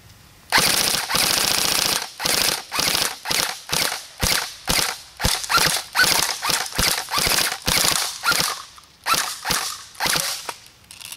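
Real Sword Type 56-2 AK-47 variant airsoft gun firing in rapid bursts, each a dense, close, loud mechanical rattle separated by brief pauses.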